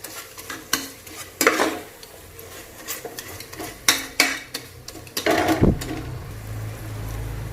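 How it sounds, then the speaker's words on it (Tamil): A spoon stirs mashed tomato masala in a pan for plain biryani, giving repeated close scraping and clanking strokes with soft sizzling in between and a low background hum. "இது நல்லா கிளறி விட்டுட்டு"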